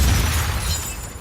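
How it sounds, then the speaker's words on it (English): Mass Vitrify crystals shattering in Warframe, a short low boom with a crackling burst that fades over about a second. "If you shatter Mass Vitrify,"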